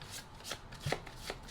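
A deck of tarot cards shuffled by hand, close and soft, with a few papery riffles and taps in an uneven rhythm and no talk.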